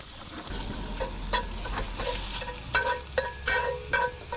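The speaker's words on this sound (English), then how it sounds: "listen to that sizzle" Venison sausage sizzles and crackles steadily in a skillet, with soft stirring scrapes and a few sharper taps against the pan, close and moderately quiet with no talking.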